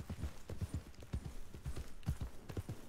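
Horse hooves clip-clop in a steady, fairly loud rhythm as a mount travels through a video game world, the quick paired beats continuing throughout with no talk.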